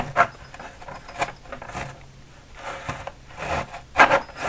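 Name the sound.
hand saw cutting lumber in a miter box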